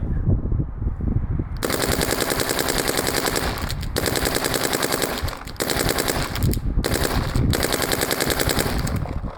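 Dye M3+ electronic paintball marker firing outdoors in long rapid-fire bursts, a loud, dense mechanical rattle of shots broken by several brief pauses between strings.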